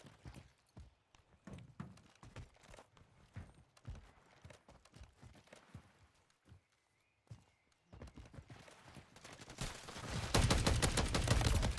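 Gunfire in a video game, scattered sharp shots and rapid bursts at moderate loudness, growing into a dense loud barrage in the final two seconds.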